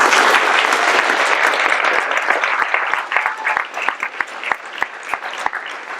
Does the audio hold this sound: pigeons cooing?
no